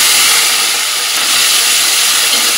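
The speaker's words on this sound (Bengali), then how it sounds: "মটরটা দিলে না মানে কড়াইশুঁটিগুলো দিলে চটপট করে ফুটবে সারা গায়ে" Green peas fry in a hot kadai, giving a loud, steady hissing sizzle that holds evenly throughout without clear individual pops and with no voices.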